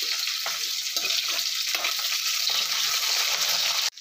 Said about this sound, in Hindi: इसको अच्छे से फ्राई करेंगे प्याज को।